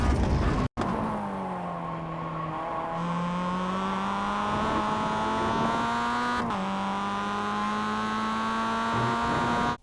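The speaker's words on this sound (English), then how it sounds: "I'm using a manual blip on my downshift into first gear like before to keep full control over my car" A Mazda MX5 race car in iRacing at Circuito de Navarra holds a steady engine drone, with a sharp throttle blip on the downshift into first gear before the tone settles and rises again.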